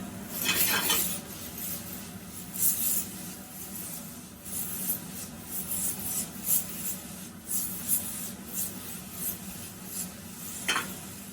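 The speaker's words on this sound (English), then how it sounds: "We're going to saute this for just a moment." Onions and celeriac saute in a pan, heard mostly as repeated scraping and rubbing of a utensil against the pan with soft clinks, fairly quiet over a low background hum.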